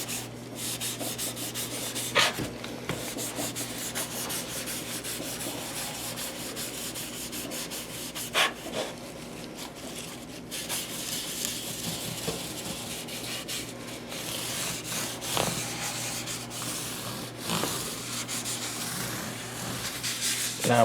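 A rag wipes excess finish off a wooden guitar kit body and fretboard, a close, steady rubbing with repeated strokes and occasional sharper scuffs, alone with no talk.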